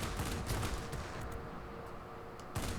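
Aircraft machine guns firing in World of Warplanes, a dense continuous burst of rapid fire that runs nearly the whole clip, easing slightly in the middle and swelling again at the end.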